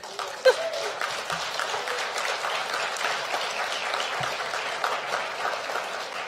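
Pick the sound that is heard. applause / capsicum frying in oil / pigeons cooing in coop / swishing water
applause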